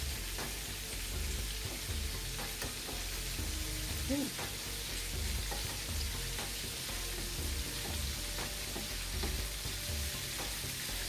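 Chicken pieces fry in a pan with a dense, constant sizzle and crackle that stays even and close throughout, with no talking.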